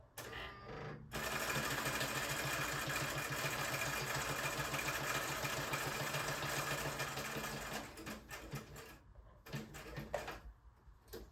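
Sewing machine running a straight stitch along the edge of a small fabric journal, a steady close mechanical whir sustained for several seconds after a brief start, then slowing into short stop-and-go bursts.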